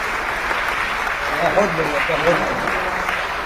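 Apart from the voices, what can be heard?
audience applause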